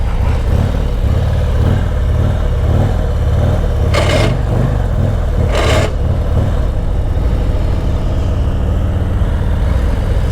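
A 2021 Harley-Davidson Road Glide CVO motorcycle rumbles along under a rider, its engine giving a steady loud low drone throughout, with two brief bursts of wind or passing noise.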